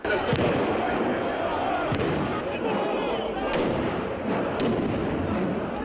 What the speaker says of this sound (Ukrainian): Навкруги починають безперервно розриватися вибухові пакети.